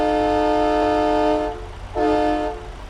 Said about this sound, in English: A train horn.